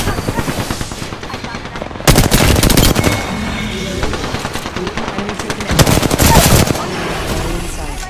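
Automatic weapon fire in the battle royale shooter Apex Legends, loud rapid bursts of shots in two heavy clusters with lighter scattered fire and game effects between them.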